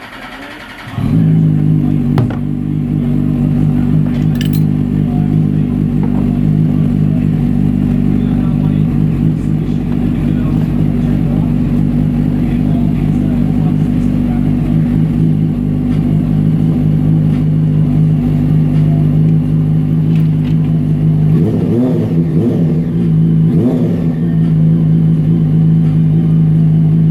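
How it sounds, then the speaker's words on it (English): A 2017-2020 Yamaha R6 sport bike engine catches at about one second, then idles steadily and loudly close by for the rest of the clip, with a couple of brief revs near the end. "So, you want to start the bike now. So. Make sure everything's running."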